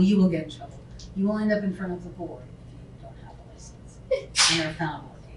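A single sharp, loud sneeze breaks in near the end of a social work licensure lecture, following several seconds of a speaker talking.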